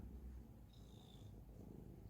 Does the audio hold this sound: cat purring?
yes